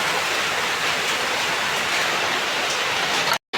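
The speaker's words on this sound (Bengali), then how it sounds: "বৃষ্টি হতে আছে" Steady rain pours down outdoors where food is being cooked, a dense, even hiss that holds constant with no talk and cuts out briefly just before the end.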